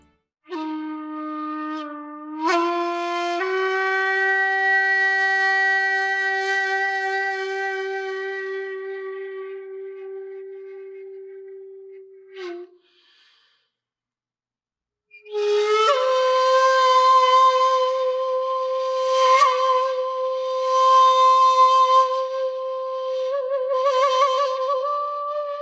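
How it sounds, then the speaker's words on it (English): Solo shakuhachi bamboo flute playing long sustained breathy tones that step upward, fade out, pause in silence, then resume with wavering, higher phrases, clear and close. "Shakuhachi sounds like this."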